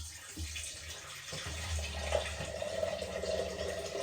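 Water poured from a tap into yogurt for kadhi makes a continuous moderate rush and splash, close by, with no talking.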